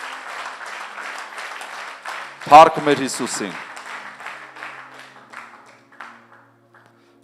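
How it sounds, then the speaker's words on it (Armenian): Church congregation bursts into a short round of applause that swells and fades within about a second or two, breaking into a preacher's continuing speech. "Ծափարենք Տիրոջ, ամեն, Հիսուսի անունով։"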